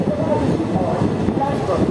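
The Azimganj–Howrah Kaviguru Express runs along the line near a station, giving a steady low rumble and rolling rail noise with faint rattles from inside the moving carriage.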